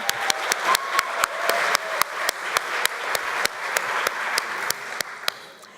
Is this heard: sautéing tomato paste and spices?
no